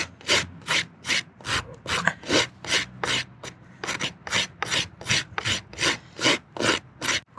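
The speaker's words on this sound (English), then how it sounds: "I like rasping over nipping because I think it's healthier for the hoof in general" A hand rasp filing a horse's hoof during trimming, a steady run of about twenty rough scraping strokes in even back-and-forth rhythm, close and clear, with no talk.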